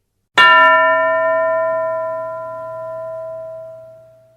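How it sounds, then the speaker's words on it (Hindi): A single bright classroom bell strike rings out clearly and sustains a long, slowly fading metallic tone over about four seconds, with no other sounds. "घंटी बजते ही दो और बच्चे खड़े होंगे"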